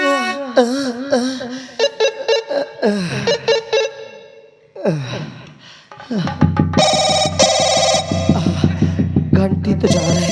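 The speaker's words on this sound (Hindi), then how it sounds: "घंटी तो जा रही है।" A telephone rings during a nautanki folk theatre performance, with a quick run of repeated ringing pulses near the end after voices and sighs.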